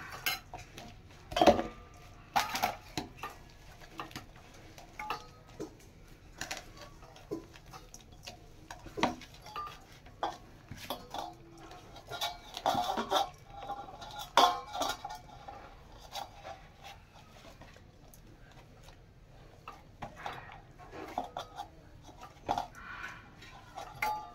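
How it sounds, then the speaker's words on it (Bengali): Stiff sweet dough for Bengali festival naru being kneaded by hand with a little milk in a bowl, heard as irregular soft thumps, slaps and occasional clinks of utensils, close and fairly quiet, with no talking. "ভালো করে মেখে নেব।"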